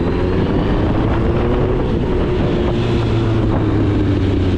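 A 1996 Suzuki Bandit 1200 four-cylinder carbureted motorcycle engine rumbles steadily at low revs under heavy wind noise, with no talking.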